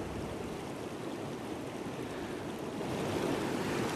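Continuous rushing of flowing water heading toward the camera beside a tree outdoors, a steady broadband wash that swells slightly louder near the end, with no voices.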